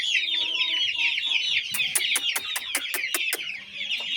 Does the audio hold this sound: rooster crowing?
yes